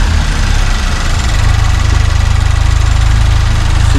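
A rare Pontiac engine idles steadily after a remote start, a continuous low rumble with a faint knocking pulse that stays close and even throughout, with no voices.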